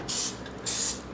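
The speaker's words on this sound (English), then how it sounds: "so I got my cooking spray" Cooking spray hisses onto a cookie sheet being coated for homemade baked french fries, two short close bursts with a brief pause between.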